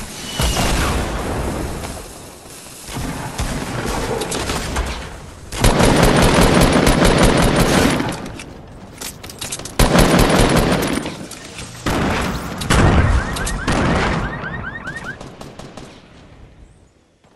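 Rapid machine-gun bursts from a turret in a video game, loud and close, coming in several long volleys with short pauses between them and a brief lighter rattle near the end.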